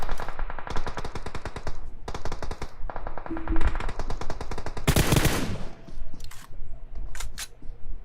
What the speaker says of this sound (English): We got Kai putting the distance shots, trying to get the kill